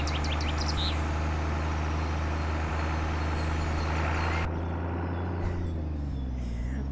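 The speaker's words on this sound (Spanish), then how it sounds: "Escuchen el motor." A Volvo NH12 dump truck's diesel engine drones steadily with a strong low rumble, heard from inside or close by on a rough Mexican road, with a brief high hiss before the tone shifts partway through.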